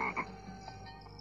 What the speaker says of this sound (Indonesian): Teriakanmu kalah dengan suara kodok dan gending tayub, Den.